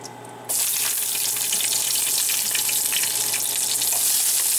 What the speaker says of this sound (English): We're gonna sear our onion.